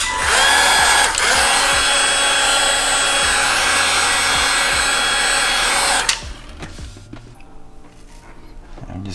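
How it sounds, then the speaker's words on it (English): A heat gun blows a loud, steady broadband roar while vinyl blackout wrap is worked over a VW MK2 Tiguan badge, then it cuts off abruptly and leaves quiet handling noises. "Take my heat gun again."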